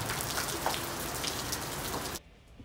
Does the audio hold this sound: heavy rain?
yes